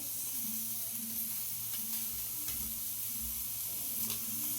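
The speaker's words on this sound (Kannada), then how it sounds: "ಇದನ್ನು ಸ್ವಲ್ಪ ಹುರ್ಕೊಳ್ಳಿ." Tomato and onion roast in a pan for mutton sambar, giving a steady, close sizzle with faint stirring scrapes running unbroken throughout.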